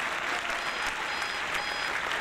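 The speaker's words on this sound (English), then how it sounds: "And the audience is still applauding loudly and demanding his return" An audience applauding loudly, a thick continuous wash of many hands clapping without pause, evenly sustained.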